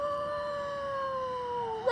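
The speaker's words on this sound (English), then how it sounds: "Off in the distance, she hears the howls of wolves or hounds." Distant howling of wolves or hounds: a long, steady wavering howl that slowly falls in pitch, then a brief louder rising burst at the end, with no talk.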